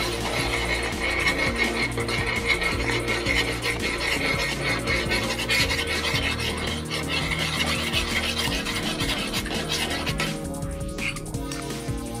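Cream is stirred into hot caramel in a pan, a continuous close scraping and bubbling churn with a dense, steady texture and no talk.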